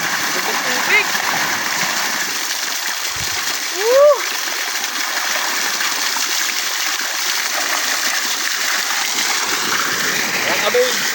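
Continuous rushing, splashing water fills the scene, steady and fairly loud, with a brief voice cutting in partway through.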